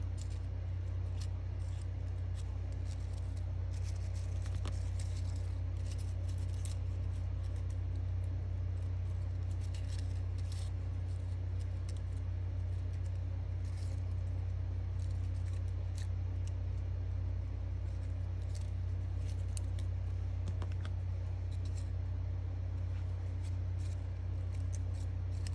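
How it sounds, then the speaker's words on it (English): Scissors snip tiny slivers between the petals of a paper flower, producing faint, sparse cuts nearly buried under a steady low hum, with no talking. "you're only going to cut ever so slightly. Because you don't want to cut your petals off."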